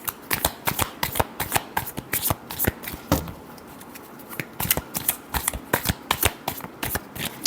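Tarot cards are shuffled by hand in rapid crisp riffles and flicks, close up and loud. A brief pause breaks the run midway before it resumes.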